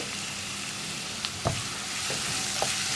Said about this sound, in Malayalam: ഇനി നമ്മൾ സവോള ഒന്ന് കുക്കായി വരട്ടെ, അതുവരെ ഇളക്കി കൊടുക്കുക